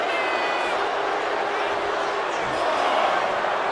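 A wrestling arena crowd in the WWE 2K25 video game roars as a steady, dense wash of cheering noise throughout, loud and even, with no distinct voices standing out.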